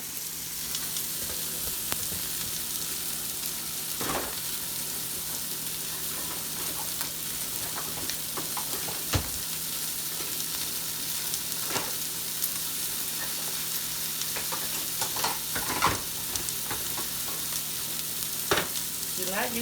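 Steak sears in a dry pan with no oil, a steady close sizzle and crackle running throughout, broken by occasional sharper pops and spits.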